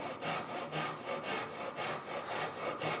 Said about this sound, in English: we're going to use the saw like this, right up against the side of the knife wall